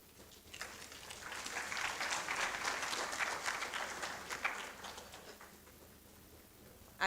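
An audience clapping at a research conference opening ceremony, a modest round of applause that swells quickly, holds for several seconds at a moderate, somewhat distant level, then tapers off into quiet.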